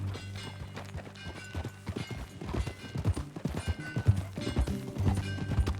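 Hooves clip-clop on hard ground in an uneven trotting rhythm, fairly close, with occasional thuds and no speech.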